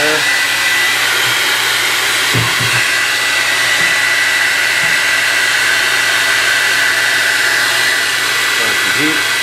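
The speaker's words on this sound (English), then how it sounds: "take about a half hour of the hairdryer applied to this" A hair dryer blowing steadily and loudly close by, heating cosmoline off a Mosin Nagant or Type 53 rifle, a continuous airy roar with faint voices underneath.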